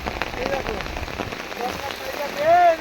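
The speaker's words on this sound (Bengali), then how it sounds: "প্রচুর পরিমাণে বৃষ্টি হচ্ছে দেখো কত পরিমাণে বৃষ্টি হচ্ছে দেখো" Steady rain patters on a surface throughout, with a brief voice or bird-like tone cutting in near the end.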